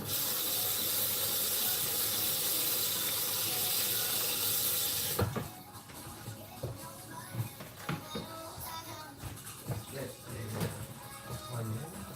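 Water is poured into a cooking pot holding Chinese sausage, carrots and potato, giving a steady loud rushing pour for about five seconds before it cuts off, followed by quieter kitchen clatter.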